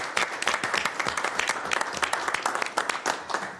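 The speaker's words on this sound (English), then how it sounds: "I think that deserves a round of applause, Jaime." A room full of people at a Sacramento air quality district board meeting breaks into steady, close applause, with dense overlapping claps sustained throughout and no talk on top.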